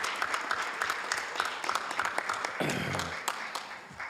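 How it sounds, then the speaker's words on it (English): A council-chamber audience applauds a group of women being honored, steady clapping filling the room with some voices and cheers mixed in, tapering off toward the end. "let's give this illustrious group of women a big round of applause"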